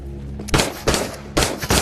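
Rifle gunshots in the VR survival game Into the Radius: four sharp, loud shots spaced unevenly across a brief moment, each a hard crack with a short decaying tail over a low hum.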